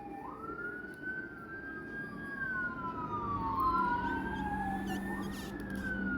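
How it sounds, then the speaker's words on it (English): A wailing siren sweeps up and down in pitch, steady and fairly loud, with no voices over it. "Sorry for all those sirens."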